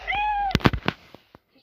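A cartoon cat in the Toca Boca camp game gives one clear, rising-then-falling meow, followed by a quick run of soft taps and clicks before it fades to near silence.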